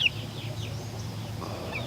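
An Americana chicken clucks softly close by among other yard fowl, with a few brief high chirps over a low steady background murmur.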